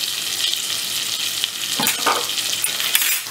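Potato pieces sizzle and fry in hot oil with a spice tempering seasoned with turmeric and salt, a steady loud hiss with a few brief stirring scrapes, no voices.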